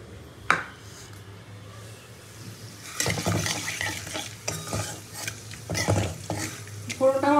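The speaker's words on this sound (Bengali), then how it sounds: "ফোড়নটা আমার ভাজা হয়ে গেছে," Whole spices with bay leaf fry in oil for a tempering, stirred with a utensil that scrapes and clinks against the pan over a steady low sizzle, with a sharp knock near the start and busier stirring later.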